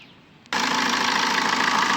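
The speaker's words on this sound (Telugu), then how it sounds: "ఇంజన్ సౌండ్ కూడా చూడండి, ఇంజన్ సౌండ్ కూడా చాలా తక్కువ ఉన్నది." A 2014 Maruti Suzuki Swift VDI diesel engine cuts in after a brief quiet moment, then holds a steady, close, even idle with a fine diesel clatter until the end.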